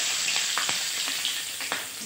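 Whole garam masala (cardamom, cinnamon and cloves) and chopped garlic fry in hot oil for chicken korma, giving a bright, steady close-up sizzle with a few small crackles and pops over a short stretch.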